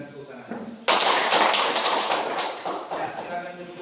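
A classroom of students bursts into clapping hands, a dense loud wash of many claps starting abruptly and continuing steadily before tapering slightly, with a teacher's voice faintly before it begins.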